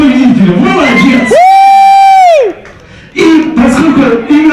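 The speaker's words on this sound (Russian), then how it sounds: "Сразу давайте овации победителю, молодец!" A seated audience at a table contest cheers the winner with a loud sustained whoop or whistle rising over crowd noise, then a brief lull before the rowdy cheering and clapping return.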